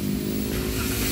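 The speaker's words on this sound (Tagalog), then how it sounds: "papaadal natin ang makina, pakiramdaman natin kung anong mangyayari" A Toyota Avanza engine with low power, delayed throttle response and poor pulling is revved close by, giving a loud, steady droning hum with a strong low tone and no talking.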